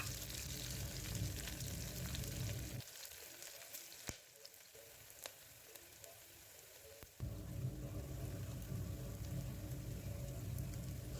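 Chopped onion sautéing in a pan while a spoon presses it apart, cooked until it changes colour for a vegetable biryani pulav; a soft steady sizzle that quiets for a few seconds midway, then resumes.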